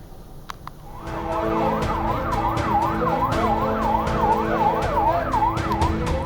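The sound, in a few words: ambulance siren arriving at Indonesia Hospital, Gaza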